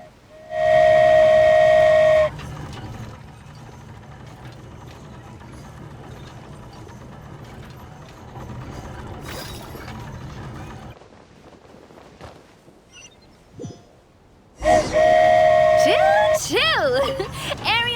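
A loud steam-whistle toot at the start, then mechanical creaking and rumbling as a flying train in Genshin Impact gets moving, with a second burst of whistle and whooshing sounds near the end.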